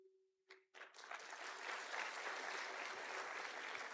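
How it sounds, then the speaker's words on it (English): Audience applause rises quickly after a brief tone and swells into steady, sustained clapping from a large crowd in a hall. "Yes, you can clap."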